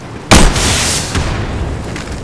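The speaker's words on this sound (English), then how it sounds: "I'm throwing a frag grenade!" A frag grenade detonates in the shooter game Insurgency: one sudden, loud, close blast followed by a long, rumbling roar that slowly fades.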